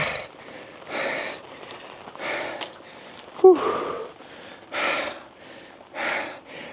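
Heavy, rapid panting from a man at a solo car camping site in Atok, Benguet, during a storm: a run of sharp, close breaths and gasps with short pauses between them.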